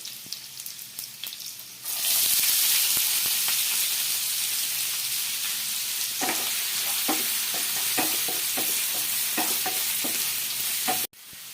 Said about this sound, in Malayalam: ഇനി ഞാൻ ഇതിലേക്ക് സവോള ഇട്ട് കൊടുക്കാം നമുക്ക്